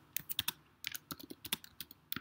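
Typing on a computer keyboard: quiet, irregular bursts of crisp key clicks and clacks close to the microphone, with short pauses between runs of keystrokes and no voices.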